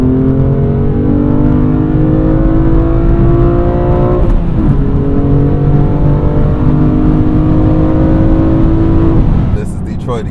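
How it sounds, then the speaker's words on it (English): A BMW M2 accelerates hard at wide open throttle on a Detroit freeway, its engine note climbing loud and close through rising revs with a brief shift partway, then a second long pull before easing off at the end. "let's do some wide open throttle"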